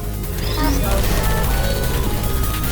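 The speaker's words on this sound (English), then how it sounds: "I heard gunfire." Bursts of gunfire in the video game Portal 2 crackle amid chaotic noise and a loud, busy mix, with a brief zipping tone near the start.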